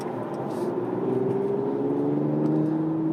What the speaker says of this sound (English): What you're hearing is my car.